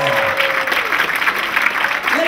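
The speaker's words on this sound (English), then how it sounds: "Another big round of applause for our fire service of the city of Ottawa." An audience at a fundraising gala in Ottawa applauds in a steady, dense wash of clapping that continues without a break, with crowd murmur and a voice faintly mixed in.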